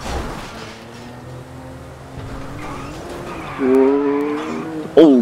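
Tires squeal as a car skids in a driving video game, a rising screech over a steady engine hum that sharpens toward the end, with faint talk beneath.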